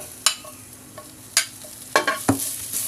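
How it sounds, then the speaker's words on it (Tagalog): Unpeeled garlic sautés in oil in a pan still seasoned from frying milkfish, giving a steady close sizzle broken by several sharp utensil clinks and scrapes as it is stirred. "At magigisa ako ng bawang."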